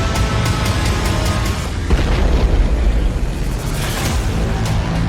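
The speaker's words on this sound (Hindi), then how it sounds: "रूस की मिसाइल एक चलती कार के ठीक सामने आकर गिरी" A Russian missile blasting just ahead of a moving car amid traffic in Kyiv during the Ukraine war, a loud, dense rumbling roar that stays heavy throughout, no voices.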